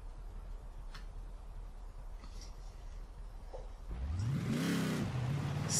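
A Mercedes G63 AMG 6x6 in Forza Horizon 4, supercharged, idles quietly with faint ticking, then revs up sharply in a rising, loud engine sweep that peaks and settles back to a steady higher drone.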